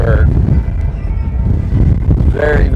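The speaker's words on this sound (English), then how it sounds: "The wind has picked up big time." Heavy wind buffets the microphone with a loud, constant low roar, and a voice briefly cuts through at the start and end.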